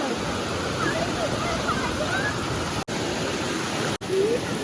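Floodwater rushes through Karjat and into buildings, roaring steadily and loudly throughout, broken by two brief dropouts. Faint voices sit under it.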